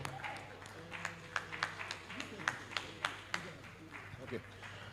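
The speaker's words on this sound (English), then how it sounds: "Please a round of applause for Deyemi Okanlawon." An audience at a conference panel on content creation and AI in Nollywood claps to welcome a panelist, faint scattered claps in an uneven rhythm under a low hum and some murmur.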